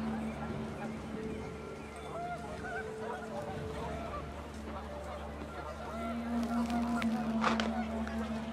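Panicked geese honking in the video game What Remains of Edith Finch, a cluster of fairly faint calls under a low wind-like background, with soft clattering near the end.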